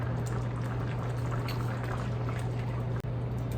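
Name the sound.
pouring a little soy sauce into the cooking chicken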